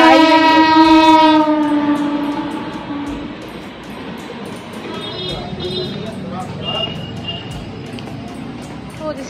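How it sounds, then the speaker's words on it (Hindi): A train pulls into a station with a loud, sustained horn blast at the start, followed by the steady rumble and clatter of the rail cars rolling past close by. "मैं आपसे बात कर रही थी और ट्रेन आ गई, तो फिर क्योंकि उसकी आवाज़ की वजह से तो मुझे स्टॉप करना पड़ा"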